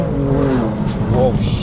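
BMW F87 M2 Competition with anti-lag doing a launch: a loud, raspy engine rev climbing and falling with crackling pops, close by, with excited talk over it.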